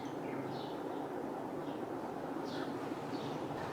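An Agha King model AC DC ceiling fan runs at speed 2 in a home with a steady, even whooshing hum, while faint bird chirps sound in the background.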